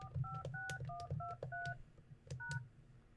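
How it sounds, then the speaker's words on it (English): Desk phone keypad beeps out a PIN as a quick series of about seven short DTMF tones, clear and close, with soft button clicks between them in a quiet office. "And then enter your PIN and press pound."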